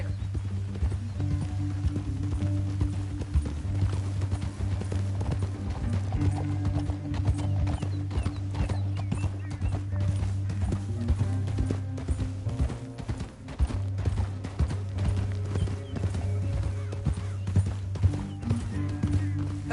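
Horses gallop in Red Dead Redemption 2, a rapid continuous clatter of hooves over a low steady drone of game sound, with a brief dip midway before the hoofbeats resume.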